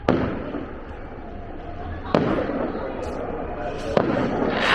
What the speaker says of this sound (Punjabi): ਡੌਮ ਦੇ ਚੱਲਦੇ ਪਟਾਕੇ